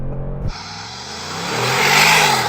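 A powerful Mercedes-AMG V8 engine snarls and revs hard as a car launches, the roar building loudly with rushing wind noise.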